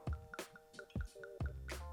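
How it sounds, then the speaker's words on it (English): Jameson Single Pot Still Irish whiskey, 46% ABV, is poured from a freshly opened 700ml bottle, a series of close, soft glugs and splashes into a glass in an otherwise quiet room. "We open, I haven't had this yet, we pour."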